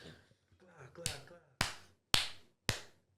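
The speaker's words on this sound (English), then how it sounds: "Julie, let me hear one clap, please." A single sharp hand clap, then three more loud, crisp claps at roughly half-second intervals, each standing alone after brief faint murmuring.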